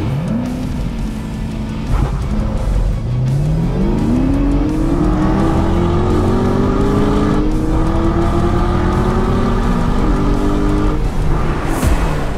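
A Chevrolet Camaro ZL1 1LE makes a manual launch on a drag strip. Its engine roars loud and close, pitch climbing steadily through one long hard pull with a brief dip near the end.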